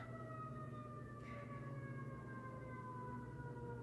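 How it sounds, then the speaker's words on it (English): Emergency sirens wail at a distance on a busy street, their steady tones gliding slowly downward as the vehicles pass, over a low background hum. "can you hear the sirens?"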